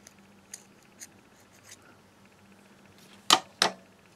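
Scissors snipping crochet yarn, two sharp close snips near the end, preceded by a few faint light clicks in a quiet room.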